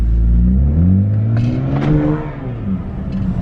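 Close, loud engine revving from a BMW 535i fitted with catless downpipes, a deep rumble that climbs in pitch, briefly peaks and settles back to a throaty idle.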